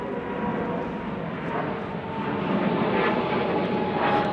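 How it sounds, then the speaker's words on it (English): An airplane passes overhead outdoors, a steady broad engine drone that swells slightly louder in the second half, moderately distant, heard alone with no talk. "This airplane, do you see it?"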